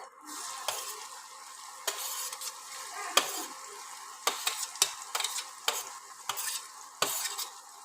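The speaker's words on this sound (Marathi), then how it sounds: "कांदा मस्त असा लाल खरपूस परतून घ्यायचा आहे." Onion sizzles in hot oil in a pan while a spatula stirs it, a gentle steady fry with repeated sharp scraping clicks against the metal, close and fairly quiet.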